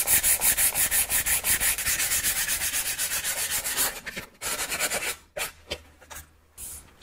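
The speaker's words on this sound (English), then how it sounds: "I'll go over it one more time with 120 grit. And I'll hand sand that a little bit" Hand sanding a copper cylinder with 120 grit sandpaper, a steady rhythmic rasping of quick back-and-forth strokes, close and loud, slowing into a few broken scrapes near the end.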